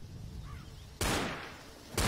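Two pistol shots in the zombie co-op shooter Left 4 Dead, each a sudden loud crack about a second apart with a fading echo, following a quiet stretch of ambience.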